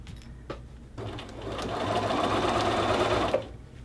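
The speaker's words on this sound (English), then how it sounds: "sewing the cuff seam to the bottom of my sleeve" A sewing machine runs steadily, stitching a men's shirt cuff seam onto the bottom of a sleeve, with a brief stop-start near the beginning before a continuous close hum of stitching that cuts off at the end.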